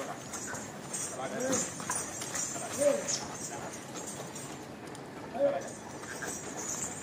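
A mare's hooves clip-clop in a soft, steady rhythm at a moderate distance, fairly faint, with occasional voices in the background.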